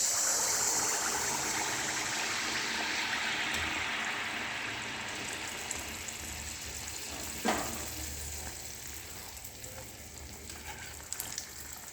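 Pua batter fries in a wok with a loud, steady, close sizzle that fades slightly over the stretch, broken by a few brief pops and stirring clicks.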